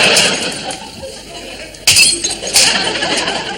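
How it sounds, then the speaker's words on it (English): Ceramic saucers smashed on a floor in a shabby student-house kitchen, giving two sharp crashes a few seconds apart, each with bright shattering and clinking debris. "Why are you smashing up saucers, Rick?"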